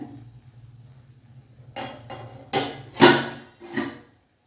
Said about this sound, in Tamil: இப்போ மூடி எடுத்தாச்சு